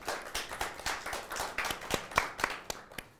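A small group claps for a debate speaker at a political discussion semifinal, with distinct, uneven individual claps that stay fairly quiet and sparse and fade out near the end.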